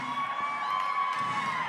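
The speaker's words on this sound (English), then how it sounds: "Why are you cheering, assholes?" A crowd at a live band concert at Marina Shores in Kenosha briefly cheers and whoops, a short, lively burst of applause-like noise.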